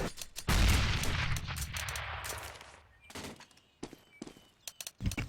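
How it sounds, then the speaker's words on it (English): A grenade thrown in a shooter video game goes off with a loud booming blast that fades over a couple of seconds, followed by scattered gunfire. "I'm throwing a grenade."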